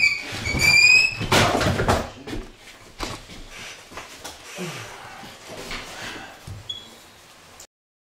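A door in the old Monroe House in Hartford City, Indiana gives a high, squeaking creak near the start. Shuffling and room noise follow as it is moved, then the sound fades out.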